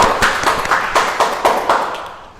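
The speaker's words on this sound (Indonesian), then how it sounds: "Tepuk tangan dulu dong." A single person's hands clapping on a live Instagram talk show: about eight crisp, evenly spaced claps close to the microphone, fading out at the end with no talk over them.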